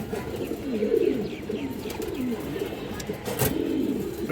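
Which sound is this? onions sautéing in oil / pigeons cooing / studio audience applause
pigeons cooing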